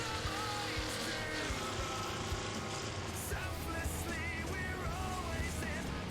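Several cars race in Wreckfest, a continuous blend of roaring engines and droning motor whine rising and falling with gear changes, loud and dense throughout with no talk.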